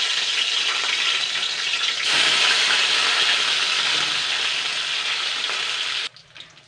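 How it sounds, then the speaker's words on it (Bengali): Paneer pieces frying in refined oil give a loud, steady broadband sizzle that swells briefly, then cuts out abruptly near the end, leaving faint kitchen noise. "এবার আমি এই পনিরের টুকরোগুলো ভেজে নেব।"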